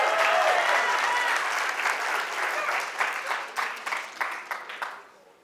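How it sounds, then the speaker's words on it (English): An audience at a talk applauds as a volunteer comes up onstage. Full, dense clapping holds steady, then thins to a few scattered claps and fades out. "let's give a round of applause."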